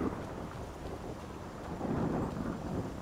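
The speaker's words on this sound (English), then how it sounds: "I'm glad that's clearing out. The idea of being all the way up here in a thunderstorm" Skyrim thunderstorm high in the mountains: a continuous deep rumble of thunder over rain and wind noise, swelling louder toward the end, with no talk.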